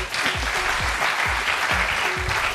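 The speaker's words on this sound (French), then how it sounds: "On peut les applaudir." Audience applause at a lively French entertainment show, brisk dense clapping throughout, loud and close with no speech over it.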